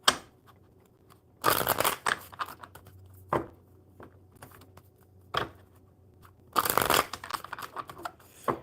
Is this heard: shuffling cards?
yes